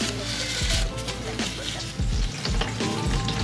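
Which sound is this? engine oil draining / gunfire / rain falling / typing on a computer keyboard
engine oil draining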